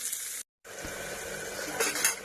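A steady, gentle sizzle of tomatoes frying in a pan, with a brief cut of silence and a slight clatter near the end.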